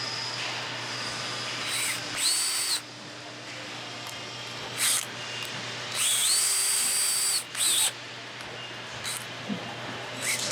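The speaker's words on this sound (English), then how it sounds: "the bit's just a 5/16 bit that I put in the drill" A power drill fitted with a 5/16 bit drives self-tapping screws into a Four Wheel Campers frame, whining in several short bursts of rising pitch separated by pauses, close and clear over a low background hum.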